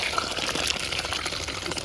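Water left from boiling chickpeas pours steadily and splashes into a kadai, a soft continuous gushing at low volume with no voices.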